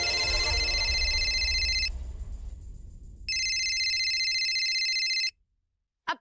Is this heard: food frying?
no